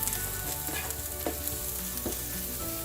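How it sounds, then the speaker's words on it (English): Onions cooking down in a pan for a dry red chilli beef masala, a close, continuous hissing sizzle with a few soft stirring scrapes, no voices. "While here my onions are cooking down"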